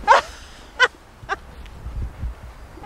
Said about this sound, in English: We got the best dog team.